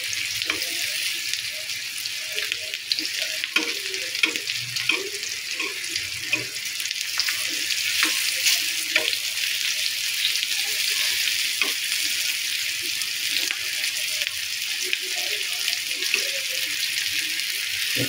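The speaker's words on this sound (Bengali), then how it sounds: "খুব সুন্দর ভাজা হয়েছে। সবগুলো মিষ্টি কুমড়া" Slices of sweet pumpkin fry in a pan with a steady hissing sizzle, and light taps and scrapes come through as they are turned, close and continuous.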